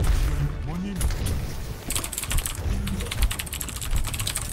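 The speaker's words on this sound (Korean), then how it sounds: "적축인데 왜 또각또각또각 소리가 그렇게 심하죠?" Rapid clacking of keys on a mechanical keyboard with red switches, close and continuous, with a voice talking underneath.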